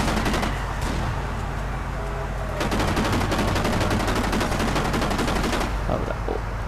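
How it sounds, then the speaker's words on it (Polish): Rapid bursts of gunfire and blasts in the video game Kane and Lynch: Dead Men crackle in dense volleys, loud and close, pausing briefly before a longer sustained barrage that then cuts off. "Wow, ale eksplozja"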